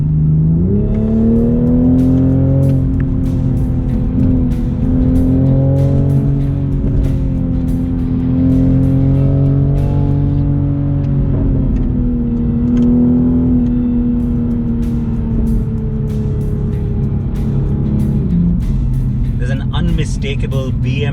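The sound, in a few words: sports car accelerating in sport mode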